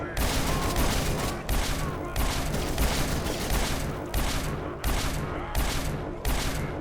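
Rapid bursts of laser rifle fire in Fallout 3, loud and dense, with repeated shots running back to back across the whole stretch and brief dips between volleys.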